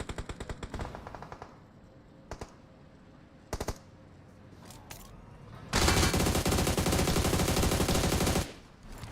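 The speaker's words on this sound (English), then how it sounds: "Nice shooting there." Gunfire in PUBG Mobile during a competitive match, beginning with rapid bursts of automatic fire, then scattered single shots, and ending in a long, loud sustained burst of shooting.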